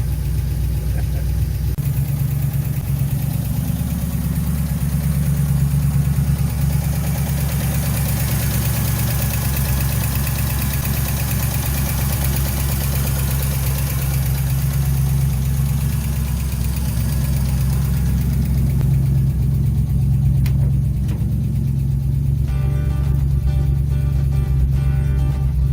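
A 1967 Corvette 327 V8 fitted in a 1948 Chevy pickup idles steadily, giving a loud, continuous low rumble close by that runs unbroken throughout, with no talking.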